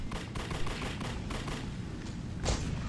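Rapid gunfire in The Suffering: Ties That Bind, a steady stream of quiet, evenly spaced shots like an automatic weapon, with a slightly heavier burst near the end.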